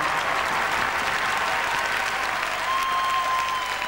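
A large audience at a European ballroom dance championship final in Finland claps steadily and loudly after a standard dance performance, a dense, even wash of applause throughout.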